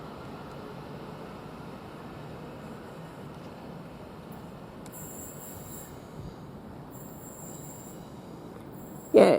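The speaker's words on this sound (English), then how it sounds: "Now this Thameslink train now depart with the 1114 from Rayham towards Luton, leaving a minute late" A Thameslink train departing Rochester station towards Luton, with a steady low rumble of wheels rolling on rail, faint squeal and clatter on top, and a brief sharp bump right at the end.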